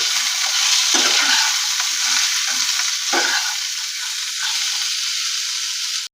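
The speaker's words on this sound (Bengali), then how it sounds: "দিয়ে এগুলোকে ভাজা ভাজা করে নেব" Capsicum stir-fries in a hot pan, giving a loud, dense, continuous sizzle close by, broken by a couple of brief scraping stirs, with no speech.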